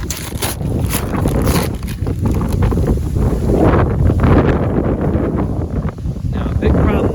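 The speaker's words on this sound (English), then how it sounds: "a big problem we're gonna have today is dealing with the wind. It's mighty windy out here" Strong wind buffets the microphone at an outdoor shooting range in a steady, heavy rumble that swells and roars throughout, with a voice faintly underneath.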